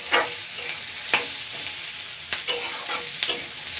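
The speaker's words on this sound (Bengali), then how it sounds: "এটাকে আমি আবারও দুই তিন মিনিট ভেজে নেব" Crushed spices frying in a pan with a steady low sizzle, broken by a few sharp scrapes and taps of a spoon stirring them, close up.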